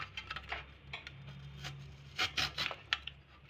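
Raw potato pressed down by hand and drawn across a slicing cutter, giving a run of soft rasping scrapes with sharper, louder strokes toward the end, close by, with no voices.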